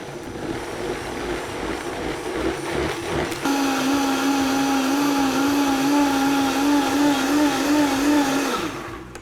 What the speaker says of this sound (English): So now we're just gonna blend it.